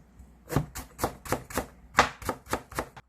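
Knife chopping carrot slices into shreds on a cutting board for tteokbokki: about ten crisp, evenly spaced chops in a steady rhythm, close and clear with no talk.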